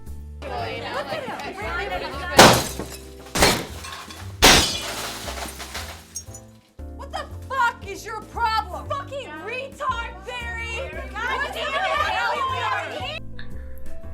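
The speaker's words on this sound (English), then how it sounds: "shattering his sister's windows." Glass windows shatter in a few sharp, loud crashes early on, then give way to layered voices and chatter that continue to the end.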